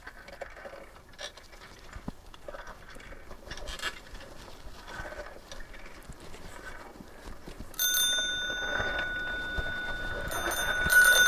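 A bicycle bell rings out from about eight seconds in, bright metallic tones layered over steady outdoor background noise in a village comedy scene, fairly close and repeated toward the end.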